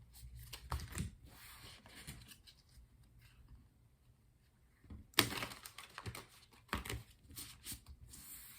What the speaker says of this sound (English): Let's do the second shuffle.